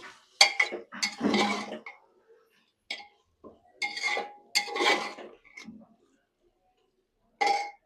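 A spoon clinks and scrapes against a pot while fried potatoes are stirred into mutton curry, in short irregular bursts of clatter separated by quiet pauses.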